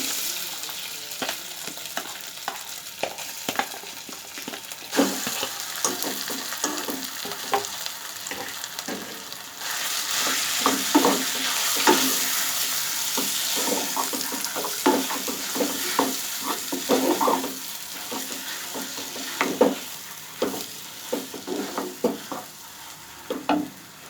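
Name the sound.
mashed potato added to a frying pan and stirred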